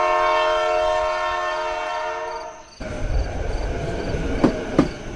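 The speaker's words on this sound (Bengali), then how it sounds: "ওর চোখের সামনে থেকে লাস্ট ট্রেনটা বেরিয়ে যায়" A train horn sounds in long harmonic blasts for nearly three seconds as a train departs a station, then gives way to the rumble and rattle of rolling rail cars with sharp clanks.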